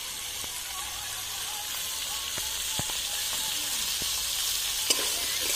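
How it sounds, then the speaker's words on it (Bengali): Shrimp and mixed vegetables fry in a pan, a steady broadband sizzle with a few sharp clicks of stirring scattered through it. No one speaks. "আবার একটু নাড়িয়ে নিলাম।"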